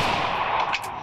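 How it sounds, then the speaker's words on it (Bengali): Gunfire in a mobile shooting game as the player tries for a headshot, heard as a quick burst of sharp, bright reports near the end of a short moment. "আমি ওকে হেডশট মারার চেষ্টা করতেছি"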